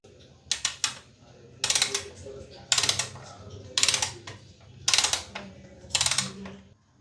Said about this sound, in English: I am using this 14 number socket, and it is attached to this ratchet like this.